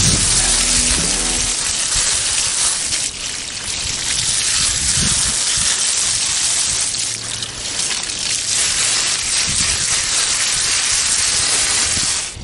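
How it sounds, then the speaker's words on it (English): A garden hose sprays water outdoors in a bucket garden while horseradish roots are cleaned, a loud steady hiss and patter that runs continuously, with no talking. "I'm gonna go ahead and get a hose out here."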